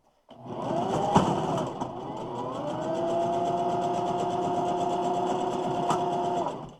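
A sewing machine stitches quilt fabric triangles together, starting with a thump and then running in a fast, steady, close mechanical whir with rapid needle ticks before stopping.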